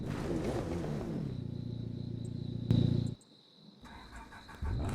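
A Lancia rally car engine in the racing game The Crew 2 drones loud and steady for about three seconds, then cuts away to a much quieter engine hum before rising again at the end.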